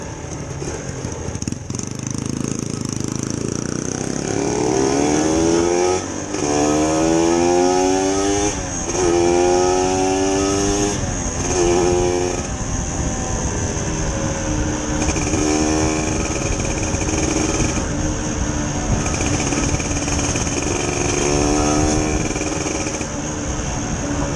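A small motorcycle engine revs hard and climbs through its gears, staying loud and close throughout a long high-speed run, with rising and falling whine and brief gaps between shifts.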